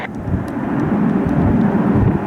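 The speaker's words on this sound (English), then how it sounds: "Another Boeing 767. This one's inbound from London Heathrow." A Boeing 767 jet airliner arriving at Washington Dulles from London Heathrow, its broad low engine roar steady and fairly loud throughout, with a rumbling wind-like wash.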